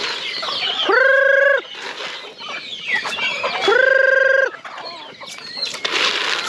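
Chickens and turkeys clucking and squawking nearby while being fed yellow corn, with two long, loud crowing calls standing out over the busy background chatter of birds.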